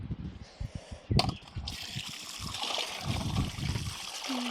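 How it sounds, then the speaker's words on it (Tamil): Cold water is poured over raw meat that is being kneaded and washed in a village home, bringing close splashing and squelching handling, then a steady gushing pour. "நீ பச்சை தண்ணி ஊற்றி நல்லா பிசைஞ்சு கழுவோம்."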